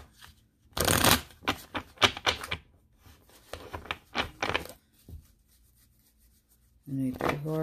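Tarot cards being shuffled in quick riffling bursts, crisp and close, with short pauses between, and a voice briefly at the end.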